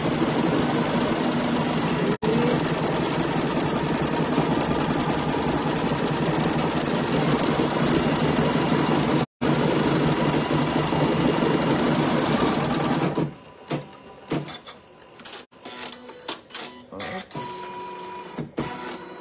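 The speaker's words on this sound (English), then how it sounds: "while it's doing embroidery, I won't do it because it's moving too much" An embroidery sewing machine stitching cutwork flowers, loud, close and steady in a continuous rapid whir for about thirteen seconds, then it stops and only scattered softer handling noises follow.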